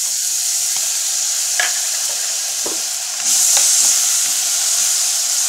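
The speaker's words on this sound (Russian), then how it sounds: "Дадим свеколке немножко пожариться на разогретом масле" Beetroot frying in hot oil in a pan gives a steady, loud, close sizzling hiss that rises a little midway, with a few light clicks and scrapes of stirring and no voices.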